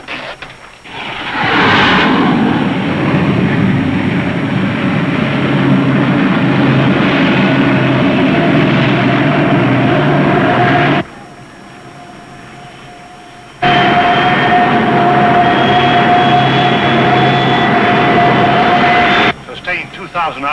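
An aircraft engine held at 2,000 RPM gives a loud, steady drone that drops out abruptly for a few seconds, then resumes with a sustained whining tone, heard under talk.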